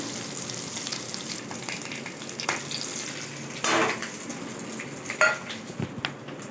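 Potato and a green chili frying in oil in a pan, a soft continuous sizzle with occasional stirring scrapes and utensil clinks, close and fairly quiet.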